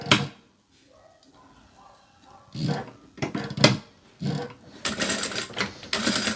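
Sewing machine stitching a label onto fabric, running in short, loud, rattling bursts separated by pauses, with a voice heard briefly near the start.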